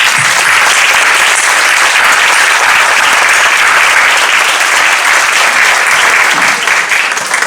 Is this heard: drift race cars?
no